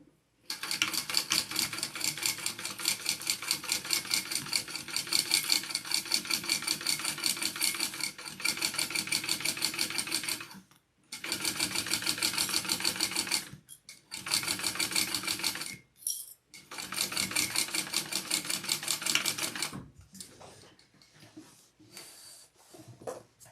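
Sewing machine top stitching a crossbody bag, steady fast needle chatter in long runs broken by short pauses, quieter stops and starts toward the end.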